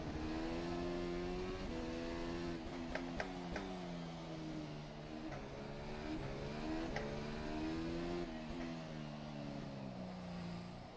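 A simulated 2020 Formula One car on soft tyres pulls out of the pits at Zandvoort in rFactor 2, its high engine note rising and falling steadily through gear changes, continuous and fairly quiet.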